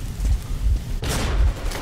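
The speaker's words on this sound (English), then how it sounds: "Oh god, these explosions though." Rumbling booms and a burst of crackling blasts in Metro Exodus, loud and close, rolling one after another like heavy explosive fire.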